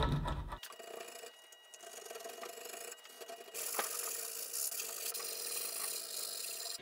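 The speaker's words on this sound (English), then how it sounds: "Because this rubber does sand pretty nicely." Sanding old rubber off a teak boat part, a close rasping scrub that starts after a short knock and grows fuller and steadier in the second half.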